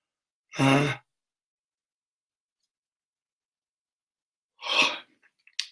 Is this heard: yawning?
yes